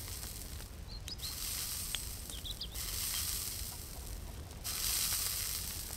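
Food frying over a campfire in the survival game Mist Survival, a faint steady sizzle and hiss with soft crackles, continuous and low, with no talk.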